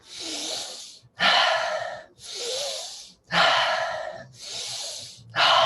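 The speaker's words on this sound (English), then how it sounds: "I want you to breathe a little bit faster and a little bit deeper." Fast, deep breaths during a breathing exercise, with six loud rushing inhales and exhales alternating in a steady rhythm close to the microphone.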